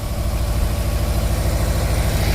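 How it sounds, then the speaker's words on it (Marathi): A Jio tractor engine runs steadily while spraying a tomato plot, a loud, close, continuous low throbbing drone with no talk. "आपण मोक्सोमाइट, व्हॅलिडामायसिन आणि जोसची फवारणी आपल्या जिओ ट्रॅक्टरच्या साहाय्याने करत आहोत"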